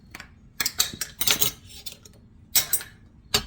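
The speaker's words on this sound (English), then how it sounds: "Mix these up thoroughly." Utensil scraping and clinking in a mixing bowl as carrot cake ingredients are stirred together, several short bursts in irregular rhythm, close and fairly quiet with no voices.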